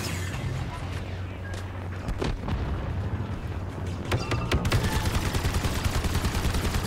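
Gunfire from the Star Wars Battlefront 2 video game on Xbox One, a steady background of rapid distant shots with a few sharper bursts standing out near the end.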